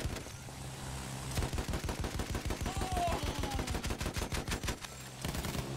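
Rapid bursts of gunfire from an aircraft in Battlefield 1, with one long run of evenly spaced shots between quieter passages of fire and a rising engine-like whine in the middle.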